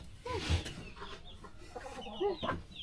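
Chickens cluck close by in a farmyard, a few short, irregular clucks and soft calls rising over a light outdoor background.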